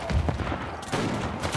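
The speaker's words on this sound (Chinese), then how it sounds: "听到一下砰砰声，散弹枪" Shotgun blasts ring out in the video game Uncharted: The Lost Legacy, a few loud, sharp bursts close together followed by rumbling echo.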